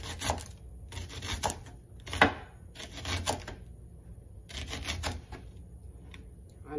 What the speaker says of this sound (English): So now I'm about to cut up the shallot.